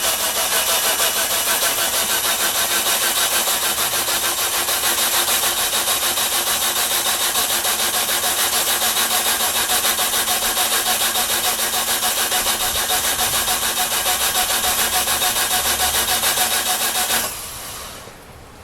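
A 420A performance engine cranks on its starter in a long, loud, continuous whirring grind that runs for over fifteen seconds without catching, then winds down abruptly near the end.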